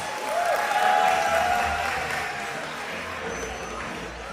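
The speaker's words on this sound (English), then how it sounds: "huge round of applause for Sagar and Dharini" Wedding reception guests applauding the newlyweds after their first dance, a moderate wash of clapping that swells early and then fades to a softer patter, with a faint tone over it.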